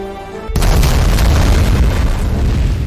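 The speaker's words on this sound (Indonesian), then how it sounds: "Ledakan besar pun mengakhiri ancaman di dalam lab." A massive explosion in a lab erupts abruptly after a brief quiet tonal lead-in, followed by a sustained, loud roaring rumble that fills the rest of the clip.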